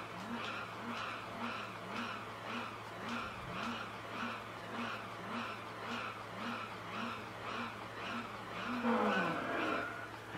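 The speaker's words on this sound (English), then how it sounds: "I'm driving the Mercedes-Benz SLM McLaren" A Mercedes-Benz SLR McLaren races in Gran Turismo 4, its engine note rising and falling in a steady repeating rhythm through gear changes, with a brief tire squeal near the end.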